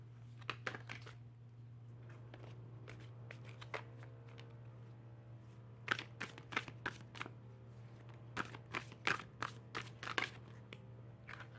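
A deck of tarot cards is shuffled by hand in repeated bursts of riffling flutters and soft slaps, close and fairly quiet over a steady low hum, with no talking.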